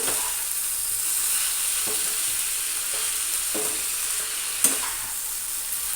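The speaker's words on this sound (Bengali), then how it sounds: "চিনিটাকে শাকটার সঙ্গে একবার মিক্স করে নিচ্ছি" Red amaranth greens being stirred with sugar in a pan over the flame, a steady soft sizzle running throughout with a few light scraping stirs and one brief sharper clink near the end.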